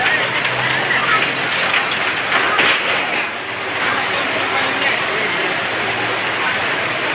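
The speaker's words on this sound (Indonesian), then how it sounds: "hujan deras sekali" Heavy rain pours down during a house fire on Jl Sunu in Makassar, a dense, loud, steady roar of falling water that stays constant throughout.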